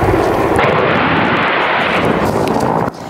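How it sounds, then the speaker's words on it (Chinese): Dense artillery fire during fighting near villages around Zaporizhzhia in the Ukrainian counteroffensive, heard as a loud, continuous roar and rumble that stays heavy for about three seconds before dropping off abruptly. "现场不时传来密集炮火声"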